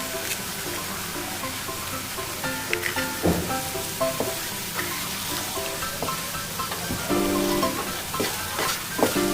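An egg cooks in a hot pan of onion gravy, a steady sizzle broken by a few sharp clinks and scrapes, close and moderately loud, with no talking.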